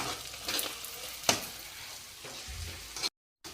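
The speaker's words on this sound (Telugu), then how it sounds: "ఇట్లయితే నూనెలో మంచిగా ఫ్రై అవుతుంది అల్లం వెల్లిపాయ" Ginger and garlic frying in oil for egg pulusu, a soft close sizzle with a few sharp clinks and scrapes from stirring, ending in a short silence.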